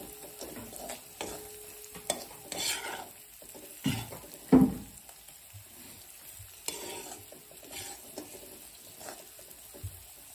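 Stirring black chili spice into a shev bhaji curry in a pan, soft scraping and stirring strokes over a quiet sizzle, with a few louder clinks of the spoon against the pot.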